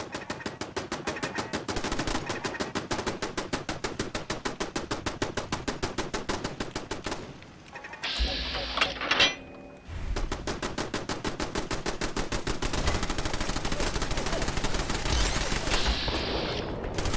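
Rapid automatic gunfire in a video game, long sustained bursts of evenly spaced shots filling most of the stretch, broken by a short pause with a different burst of noise before the steady firing resumes, loud and close.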